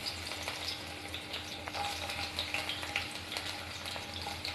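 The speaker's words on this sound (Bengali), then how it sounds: "চুলার আঁচটা মিডিয়াম টু লোয়ে রেখে পেঁয়াজ রসুনটা একটু সময় নিয়ে ব্রাউন কালার করে ভেজে নিচ্ছি" Chopped garlic and dried red chilies frying in oil over medium-low heat, a soft continuous sizzle with occasional stirring, fairly quiet.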